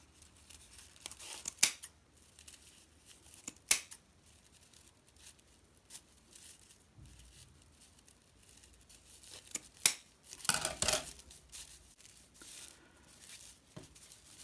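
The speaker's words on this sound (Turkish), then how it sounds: "Daha sonra buradan makasla keserek püskülün saçaklarını ortaya çıkartıyorum." Scissors snip through the fringes of a paper-rope tassel on a crocheted straw tote bag, giving a few sharp, close cuts spaced several seconds apart, with a quick cluster near the end and quiet rustling between them.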